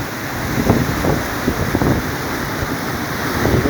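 Heavy monsoon rain and surging floodwater during a severe flood with landslides, a dense, steady roaring wash, loud and close, with gusty wind buffeting and no voices.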